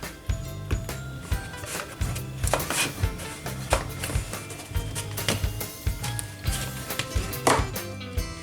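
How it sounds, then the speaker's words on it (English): A knife chopping a beeswax block into small pieces for waxing cotton, with repeated sharp cuts landing in an irregular rhythm, close and fairly loud, over a low background hum. "So we're just cutting up the beeswax block."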